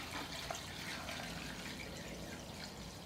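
A rusty milling-machine part is lowered into a bath of Evapo-Rust liquid, giving a steady, soft watery wash and trickle that runs the whole time at moderate level, with no talk.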